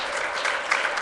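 An audience applauds a man being introduced at a gathering, with a steady dense clapping wash that swells slightly near the end, loud and close, with no talking over it.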